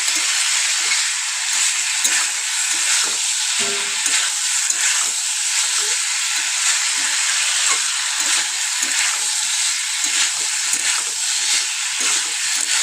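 Cauliflower and lentil dumpling curry sautés in a pan with a loud, steady sizzle and frying hiss, broken now and then by faint scrapes of stirring.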